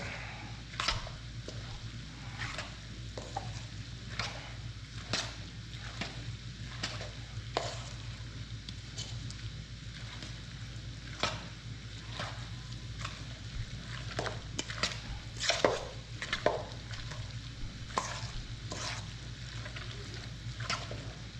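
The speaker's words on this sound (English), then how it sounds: "Now if we had a big spoon, we'll get this mixed up." A big spoon stirring chunky homemade salsa with the seeds mixed in, steady wet scraping and squishing strokes repeating in a loose rhythm, close and moderately loud.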